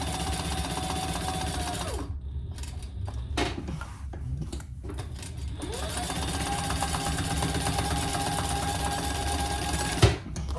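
A sewing machine runs a 1/8 basting stitch on a crossbody bag, whirring steadily in two bursts separated by a short stop filled with faint handling noises and a small clunk near the end.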